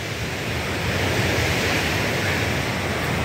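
Waves roll onto a beach in a broad, steady wash of surf with wind rumbling against the microphone, continuous and fairly close, with no voices.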